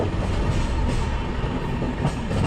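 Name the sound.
Gitanjali Express train running on rails into Kharagpur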